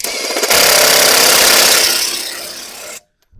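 A Grosser GID 230N cordless impact wrench runs at second speed, giving a loud, close, rapid hammering rattle that lasts about two and a half seconds and then cuts off abruptly.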